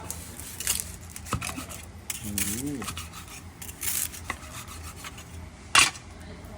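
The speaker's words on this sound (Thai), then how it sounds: "ฟังเสียงครับผม มาหมูกรอบทอดเสร็จแล้ว" Crisp fried pork belly cooked with cardamom crackles and crunches in a few sharp bursts, with a brief voice murmuring between the bites.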